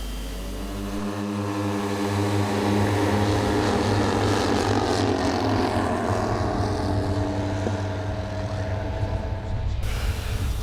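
A four-engine model B-17 bomber, powered by four 38 cc Zenoah petrol engines, drones past with layered propeller hum, rising in loudness then fading slightly, with no voices.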